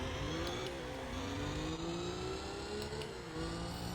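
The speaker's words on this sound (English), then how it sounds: "Nitrous boost got me in front right away" Race car engine in Gran Turismo 4 on the Tour of Tahiti event, a steady accelerating whine with a rising and shifting pitch under nitrous boost, continuous and fairly quiet.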